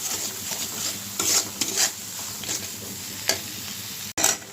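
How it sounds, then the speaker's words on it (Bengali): Spices sizzle steadily in a hot pan as they are lightly fried, with a few louder bursts of stirring and scraping at intervals, close up and without talk. "তো মশলাগুলো একটু হালকা ভেজে নেব।"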